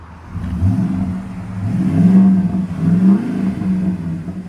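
A 2015 Ford F-250 Super Duty with a 6.2L V8 and Flowmaster true-dual exhaust revs loudly and close by, its deep rumble surging in several swells over about four seconds, with no voices.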